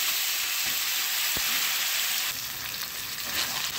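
Mashed olives sizzle in hot oil tempered with whole spices, a steady dense frying hiss throughout, with a brief sharp tap midway and a slight shift in texture later.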